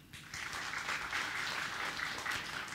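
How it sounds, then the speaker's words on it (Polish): An audience at a Polish award ceremony breaks into applause, a brief soft onset followed by steady, dense clapping from many hands, sustained and even without speech. "Proszę o klaski."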